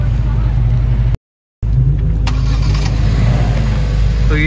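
A brand new N Line car's engine runs steadily up close with a loud low rumble, cutting out briefly before resuming, while indistinct voices talk nearby.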